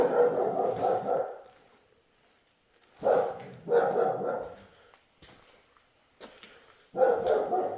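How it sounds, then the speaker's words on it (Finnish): Dog barking nearby in a garage or workshop, loud bursts of several barks each, with quiet pauses between the bursts. "ei tarvitse haukkua."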